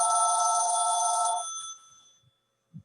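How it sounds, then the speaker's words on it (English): A telephone bell rings loudly at a candidate forum, a sustained bright trill that cuts off and fades away, followed by a faint knock. "that was a phone. It was not a timer"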